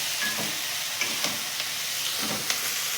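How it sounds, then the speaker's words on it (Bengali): Chopped tomatoes fry with snails and onion greens in a hot pan, giving a steady close sizzle with a few soft spatula scrapes and stirs, alone and without talk. "টমেটোটাও এর সাথে ভালো করে মিশিয়ে নেব"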